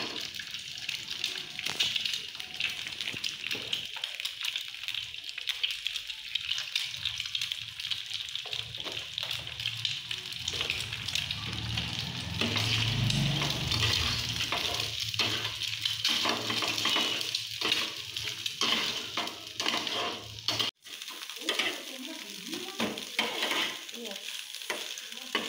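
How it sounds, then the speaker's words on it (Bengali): Two eggs frying in a pan with a little salt and turmeric for a Bengali egg scramble, a steady loud sizzle with scraping stirs throughout and a brief drop near the end. "প্রথমে আমি ডিমটা ভেজে নেব। একটু দুটো ডিম দিয়ে একটু লবণ হলুদ দিয়ে ডিমের ভুজিয়া বানিয়ে নেব।"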